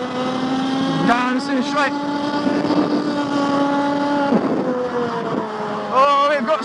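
A kart powered by an IAME Parilla engine accelerates around a track, its high buzzing engine note climbing and dipping with revs, close and loud, while someone talks over it.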